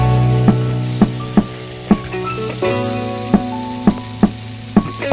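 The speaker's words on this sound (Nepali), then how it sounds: "त्यसपछि धनियाको पत्ता हालौं, फ्राई गरौं।" Masala with coriander leaves frying in a pan for mutton curry, a steady loud sizzle broken by regular sharp scrapes and knocks of a spoon stirring, about every half second.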